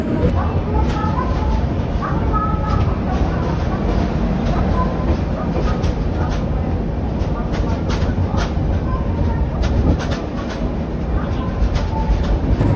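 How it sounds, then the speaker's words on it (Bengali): The Steel Express train rumbles into a station platform at Kharagpur with low, heavy rolling noise and faint clattering, close and loud throughout, with indistinct voices mixed underneath. "খড়গপুরে আমাদের এই স্টিল এক্সপ্রেস ঢুকেছে 7 নম্বর প্ল্যাটফর্মে।"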